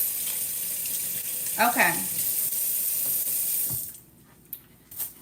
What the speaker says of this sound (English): I got to wash my hands while I do